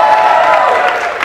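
Festival crowd at Philly Fest 2016 applauding and cheering to vote for a cell phone stunt item: a dense, steady wash of clapping with whoops and shouted voices on top, loud and sustained.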